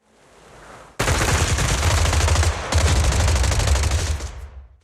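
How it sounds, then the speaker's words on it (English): In a video game, after a low rumble, heavy suppressive gunfire erupts into a dense, continuous barrage of rapid shots, loud and sustained, with a brief break before it resumes and fades. "Gunfire? This pattern. Suppressive marching fire."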